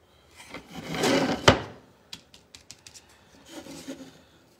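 A paintbrush working over a wooden DIY window pane, with a long scratchy rubbing stroke followed by a string of short quick dabs and taps, close and fairly quiet.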